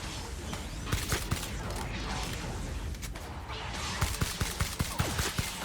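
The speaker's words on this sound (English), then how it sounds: "my gun doesn't seem to be firing as quickly as it should be" Gunfire in The Outer Worlds video game: rapid, clustered shots and mechanical clatter at moderate loudness, firing in uneven bursts over dense game background.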